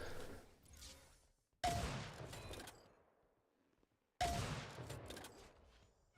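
Shock rifle shots in the arena shooter Unreal Tournament 4 during a competitive duel match: two loud, sharp blasts about two and a half seconds apart, each with a zapping energy crack that trails off into a decaying echo, and no voices.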